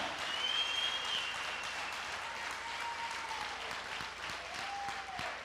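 A church congregation applauds steadily throughout, a dense continuous patter of clapping at moderate level with faint tonal sounds drifting through the hall.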